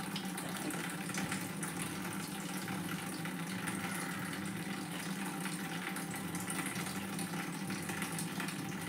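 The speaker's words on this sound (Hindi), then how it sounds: "मैं आपको धो के बताती हूँ इसे।" Water running steadily from a tap while homemade Multani Mitti soap is washed, a continuous close splashing gush with no talking.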